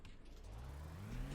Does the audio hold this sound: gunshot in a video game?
no